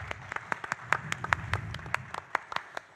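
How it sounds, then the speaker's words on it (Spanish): Audience applause at a national pain forum, a scattering of separate sharp claps spread unevenly across a few seconds rather than a dense ovation, moderately close. "Con un fuerte aplauso"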